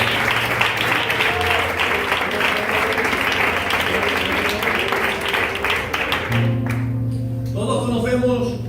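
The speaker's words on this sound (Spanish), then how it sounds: "Dale un aplauso fuerte, por favor." Loud, dense audience applause during a church-style talk, clapping under held keyboard chords, fading after about six seconds as a voice begins speaking over the music.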